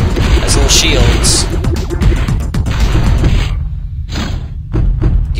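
Rapid thumping blasts from the arcade game Space Invaders, loud and steady through the whole stretch, with someone talking over the top of them.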